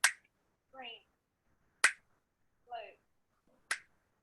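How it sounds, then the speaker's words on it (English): Three crisp finger snaps, evenly spaced about two seconds apart during a mentalism and magic jam session, each sharp and close, with a short spoken word between each pair of snaps. "every time I snap my fingers, just change the color in your mind"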